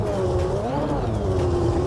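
A 1992 McLaren MP4-7 Formula 1 car in the racing game Assetto Corsa, its engine giving a loud, steady, high-pitched drone that dips and rises slightly in pitch as the throttle changes.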